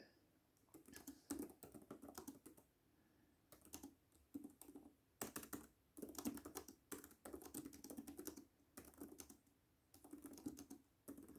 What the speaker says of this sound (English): so I will just type here